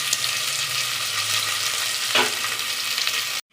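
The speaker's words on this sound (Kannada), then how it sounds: "ಇದನ್ನು ಎಣ್ಣೆಲಿ ಫ್ರೈ ಮಾಡ್ಕೊಳ್ಳೋಣ" Green chillies and onion frying in oil for village-style soppu saaru, a dense, even sizzle close up with one brief stir scrape before it cuts off.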